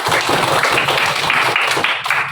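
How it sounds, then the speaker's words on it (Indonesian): Students in a classroom applaud a classmate, a loud, close, continuous patter of many hands clapping for a couple of seconds with no talking over it. "beri tepuk tangan untuk Hasan"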